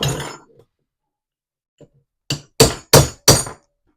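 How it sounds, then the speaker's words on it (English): A coilover bushing drops loose from the rear suspension of a Mazda Miata, hitting the ground as a quick series of four sharp metallic clanks in near-silence, after a short bit of speech at the start. "the bushing just fell the rest of the way"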